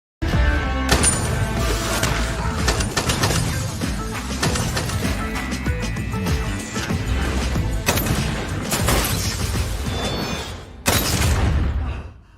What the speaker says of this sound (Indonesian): Lido yang berhasil menyingkirkan rasa traumanya segera berlari ke ruangan Wonsong lalu menembak kakinya.